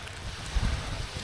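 Wind buffets the microphone in a steady low rumble at Caisip Beach Resort in Calatagan, Batangas, swelling briefly into a stronger gust midway.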